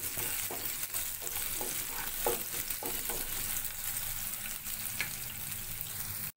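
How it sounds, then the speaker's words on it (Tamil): Spring onions sautéing in a pan for idli manchurian give a continuous close sizzle, with a few scraping stir strokes early on and no voices. "ஸ்பிரிங் ஆனியன் சேர்த்துட்டு இது நல்லா வதக்கி விட்டுக்கலாம்"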